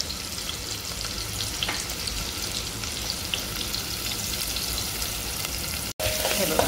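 Finely chopped onion and green chili frying in ghee in a pan for restaurant-style dal tadka, a steady loud sizzle with a brief cut near the end; a voice speaks briefly.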